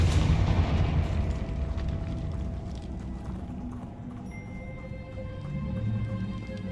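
A booming fire-spell blast from the video game Hogwarts Legacy opens loud and low, then rumbles and fades into crackling game ambience with faint chiming tones.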